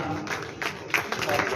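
Applause from an audience at a district-level honouring ceremony for armed forces veterans in Gangapur City, scattered claps building under a voice, moderately loud and uneven.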